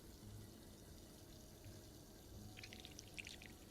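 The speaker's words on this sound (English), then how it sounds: "Just pour the cup of plaster into the mold." Plaster is poured into a mold as a faint, soft liquid pour over low background noise, with a few light splashy ticks near the end and no talking.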